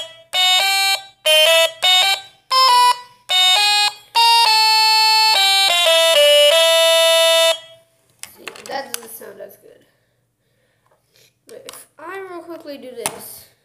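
A Stylophone pocket electronic instrument plays loud, buzzy notes, first in short separate bursts and then held with the pitch stepping between them. A person then talks over quieter noises.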